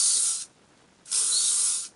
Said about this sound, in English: Got to spray them with some hairspray